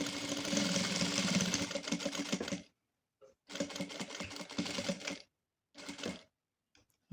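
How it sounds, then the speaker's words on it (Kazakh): A sewing machine stitches the hem of a chair cover in three rapid whirring bursts, each a few seconds long, separated by brief pauses of silence. "Енді кішкене осыны қайырып тігіп жіберемін"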